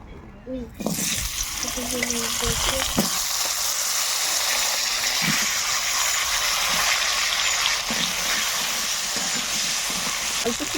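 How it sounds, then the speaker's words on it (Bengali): Potatoes are dropped into hot oil left from frying fish and then fry with a loud, steady, close hiss that lasts throughout, with a voice faintly audible early on. "এবার এই তেলেই আলুগুলো ভেজে নেব"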